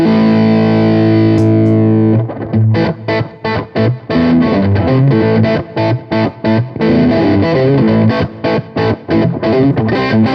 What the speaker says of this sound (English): And I got my reverb on, and now I got my Silos delay on.